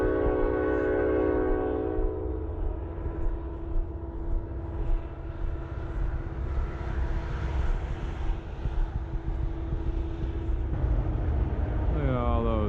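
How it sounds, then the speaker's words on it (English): A long freight train rolls past with its horn blowing at the start, a steady loud rumble of rail cars continuing throughout, with another horn-like tone rising near the end. "Look at all those train cars."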